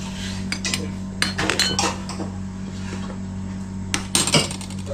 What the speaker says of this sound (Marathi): ह्याच्यात चमचा ठेवूया आपण.